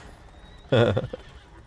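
A riderless horse in The Witcher video game lets out one loud whinny followed by a few hoof clops, with quiet game ambience before and after.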